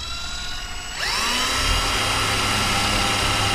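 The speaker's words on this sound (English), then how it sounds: "drill some new holes." A power drill drilling new holes while working on a 1981 Dodge D150 pickup spins up suddenly and holds a high, steady whine, close and loud, with a faint low hum underneath.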